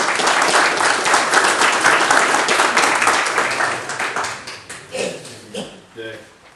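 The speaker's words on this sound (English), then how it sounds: "I think they deserve an applause too" Applause at a city council meeting: a loud burst of clapping from the audience that thins out and fades into scattered claps after a few seconds.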